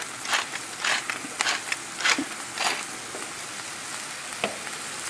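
Brussels sprouts with brown sugar, salt and pepper sizzle in a pan as they are stirred, with repeated scraping strokes over a steady background fry.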